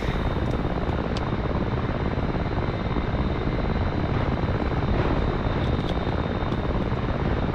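AH-6J Little Bird helicopter in DCS World, a steady loud rotor and engine drone with a faint high whine, unbroken and close throughout.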